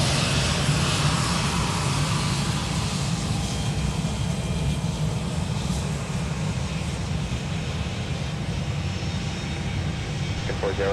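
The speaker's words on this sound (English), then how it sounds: "We're going to let the CRJ pass by." CRJ regional jet rolling past at Minneapolis–Saint Paul airport, a steady loud engine roar with a high whine, continuous throughout, while someone talks over it.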